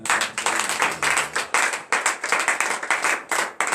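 A congregation at morning prayer clapping hands together in a fast, even rhythm, many hands striking in unison, close and lively, with no talking over it.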